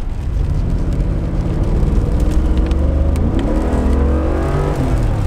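A Mercedes G63 SUV engine revs and accelerates in sport mode with a deep, rising roar that climbs in pitch partway through, loud and close, with no speech.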